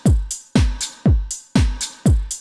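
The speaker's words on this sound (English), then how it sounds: "I've loaded up a drum loop at 120 beats per minute" Drum loop at 120 BPM, with a deep booming kick on each beat alternating with sharp hi-hat and snare hits in a steady, punchy four-beat pattern, loud and clean with no other sounds.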